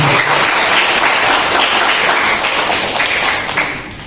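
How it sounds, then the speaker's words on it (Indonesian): Audience at a Dharma talk applauding the speaker with a dense, loud, continuous clapping that gradually tapers off toward the end. "mari kita beri tepuk tangan sekali lagi untuk pembicara"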